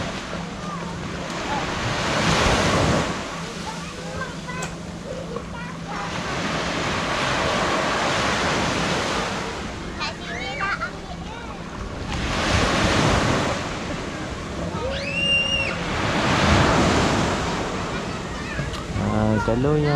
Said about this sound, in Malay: Air ombak dia agak kuat juga lah.